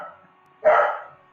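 A dog gives a single loud, sharp bark close by, which fades quickly into quiet.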